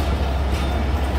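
The Awami Express train at Hyderabad railway station gives a short, loud, steady rumble of rolling rail cars, heard close and without talk.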